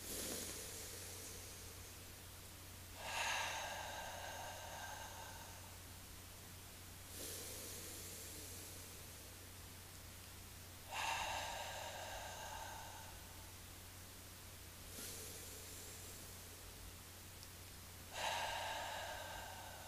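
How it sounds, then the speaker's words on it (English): A group draws three slow breaths in through the nose together, each inhale a soft, airy rush with gaps of quiet room tone between, fairly faint and without talk. "Let's just take a couple breaths together as that oneness. Let's make it 3 breaths. In through the nose."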